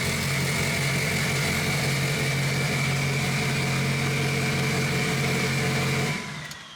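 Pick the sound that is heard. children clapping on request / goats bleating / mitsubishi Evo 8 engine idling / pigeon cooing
mitsubishi Evo 8 engine idling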